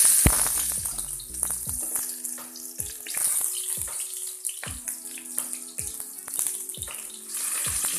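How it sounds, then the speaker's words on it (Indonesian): Spice paste and onions sautéing in a pan for an Indonesian snail noodle dish, a continuous hissing sizzle broken by scraping and stirring clatters from the utensil. "lanjut menumis bumbu. Masukkan bawang,"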